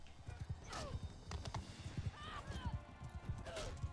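Horse hooves clip-clop in the video game Mount & Blade II: Bannerlord, a quick near run of hoofbeats with a couple of neighs and whinnies over faint background noise.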